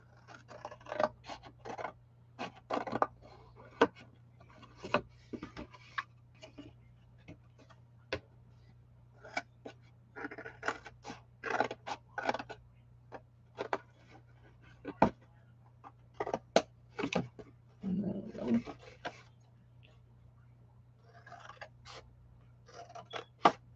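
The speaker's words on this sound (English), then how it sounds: "this is the corner I want to cut" Scissors cut the corner of a piece of paper ephemera in a quiet room: sparse, sharp snips and light scraping strokes over a faint steady hum.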